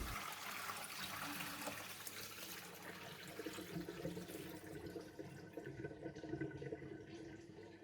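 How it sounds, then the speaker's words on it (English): Rinse water drains from a basin of washed brown rice, a faint, continuous splashing trickle heard close up with no voices. "Okay, drain the water."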